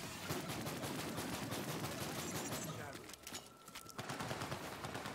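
Rapid gunfire from a favored gun in Borderlands 3, bursts of shots crackling steadily for several seconds before a brief lull and a resumption, with game effects mixed in.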